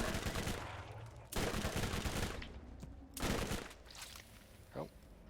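Gunfire in the video game Borderlands, two loud bursts of shots separated by quieter game sounds, fairly faint overall.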